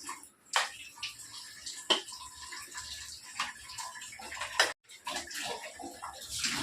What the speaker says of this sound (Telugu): మిక్సీ కడిగేస్తున్నావా